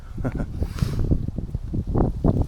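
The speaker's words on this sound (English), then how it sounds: "And it's windy as F." Strong autumn wind buffeting a microphone beside Hullvann Lake in Norway, a loud, continuous gusty roar with rustling swells and no voices.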